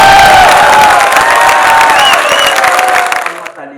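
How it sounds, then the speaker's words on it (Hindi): An audience at a Hindi poetry gathering (kavi sammelan) bursts into dense clapping and cheering, loud and close, then fades out sharply at the end. "ताली बजाना।"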